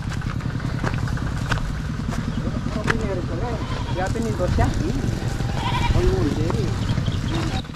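Goats bleating outdoors, several wavering cries rising and falling in the middle of the scene over a constant motorcycle-like engine drone, with people talking nearby.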